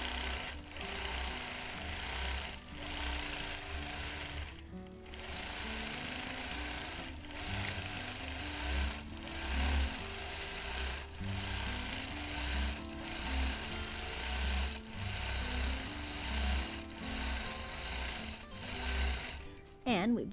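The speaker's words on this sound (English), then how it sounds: "Just stitching them down" A vintage Gem sewing machine stitches pleats down on a quilt, its steady mechanical whir running for most of the stretch with a few brief pauses, while a person talks over it throughout.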